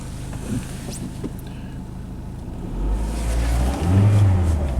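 A Dodge Neon stuck in limp mode drives with no power, its engine a low steady drone with road rumble that swells louder and heavier toward the end.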